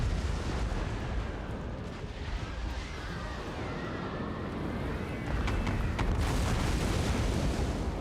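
Mortar squad artillery in the modern-warfare strategy game Total War: Warhammer 3 fires as a dense, rumbling barrage of booms and blasts, continuous and fairly loud, with sharper bursts near the end.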